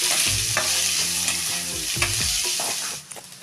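Onion and green chili fry in a pan for banana-flower kola balls, a strong steady sizzle with repeated stirring scrapes, easing off near the end.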